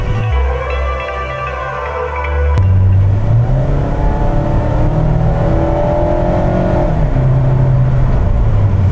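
Mazda car engine close by, idling at first, then a sudden blip and a rising rev that holds as a strong, steady engine roar, with no talk over it.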